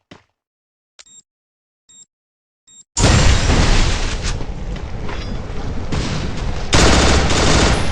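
Video game gunfire and grenade blasts in a duo match: a few sparse clicks and taps, then a sudden sustained roar of rapid shots and explosions that stays loud and dense to the end.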